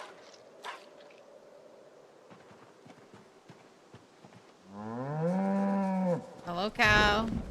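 A cow moos loudly in a zombie survival video game, a long drawn-out low call followed by a shorter higher one, after a stretch of quiet footsteps and faint background sounds.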